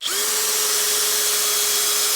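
A Bosch GSB18V-490B12 cordless hammer drill drives a screw into decking, its motor spinning up to a loud, steady high whine that holds at close range.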